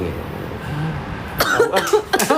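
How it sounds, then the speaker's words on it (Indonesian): A few sharp coughs burst out close by near the end, following a stretch of muffled low background noise. "Sampai batuk gua."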